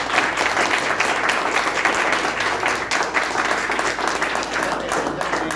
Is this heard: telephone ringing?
no